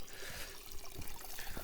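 Spring water trickling from a small brook beside a forest campsite, a faint continuous babble and gurgle with light splashes, no talk.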